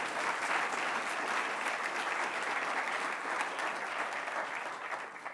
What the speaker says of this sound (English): perhaps an applause for those guys and gals